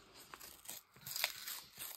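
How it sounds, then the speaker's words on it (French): Close, quiet crackling and tearing as adhesive tape is peeled away in short uneven bursts, with no voices. "je vais essayer de l'enlever complètement,"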